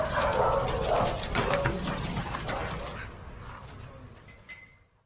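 A dog barks a few times amid bright children's phonics-song music, the yaps sitting over the backing track before it fades out.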